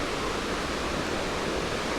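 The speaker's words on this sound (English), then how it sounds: "It's just a river, I heard." A river rushes along a forested hiking trail by the North Fork Sauk, giving a steady, broadband wash of flowing water that holds at an even level throughout with no voices.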